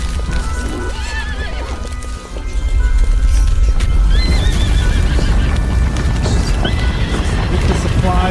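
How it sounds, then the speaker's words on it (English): Frightened horses neigh and whinny while hooves clip-clop on the ground, with a brief dip before the commotion grows louder and denser; voices are heard amid the animals. "Vince has his hands full with those horses. They're freaking out."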